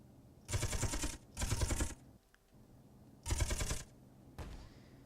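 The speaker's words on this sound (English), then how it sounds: "Careful there, they're shooting at you" Gunfire in the game Space Engineers: three loud, dense bursts of rapid automatic fire with a fainter fourth burst near the end, separated by brief quiet gaps.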